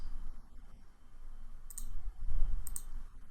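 Two crisp clicks of a computer mouse in survey data software, spaced about a second apart, sound close over a low rumbling background.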